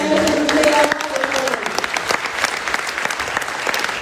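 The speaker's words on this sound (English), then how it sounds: "we give Jason AWOL a big round of applause for an amazing presentation" Conference audience applauding after a presentation, dense steady clapping filling the room, with a voice briefly audible at the start.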